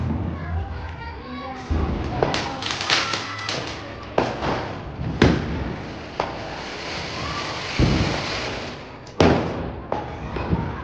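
Firecrackers burst at home during a Diwali Lakshmi puja: a string of sharp bangs and thuds at irregular intervals, close and loud, with children and adults chattering throughout.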